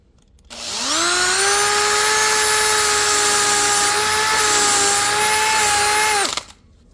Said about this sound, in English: Put this one on our drill.